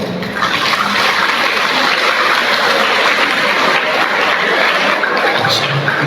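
A crowd pats their hands rapidly to imitate galloping horses, a thick, roaring, steady wash of many hands that sustains evenly throughout, close and loud with little talk.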